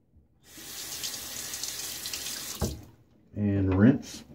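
A tap runs steadily into a sink for rinsing after a shave, a soft continuous gush that stops, followed by a short burst of louder splashing water.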